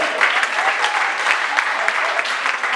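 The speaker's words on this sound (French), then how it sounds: "Au nom de Jésus, on acclame le Seigneur" A church congregation applauding during a Pentecost service, dense steady clapping from many hands close by, sustained throughout with voices faintly mixed in.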